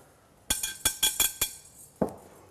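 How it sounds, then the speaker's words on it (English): A whisk stirs dry ingredients and salt in a bowl, giving a quick run of bright clinking taps against the bowl and then one last knock, close by and fairly quiet. "just take your whisk, and we're going to whisk that together to fully incorporate all the flavors"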